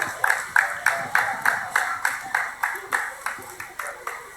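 Rhythmic unison clapping from a crowd at an altar gathering, even beats about twice per second, close and clear with faint voices underneath.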